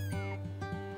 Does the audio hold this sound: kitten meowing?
yes